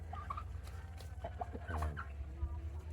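Heritage chickens in a backyard farm cluck and gobble in short bursts close by, with a steady low hum underneath and no talking.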